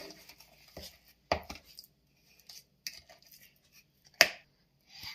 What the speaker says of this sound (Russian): Мы перемешали масло, творог и сахар.